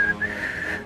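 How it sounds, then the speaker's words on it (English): A woman whistles a steady, sustained high tone with brief breaks, clear and close, in a scene from a film adaptation of The King and I. "She starts whistling."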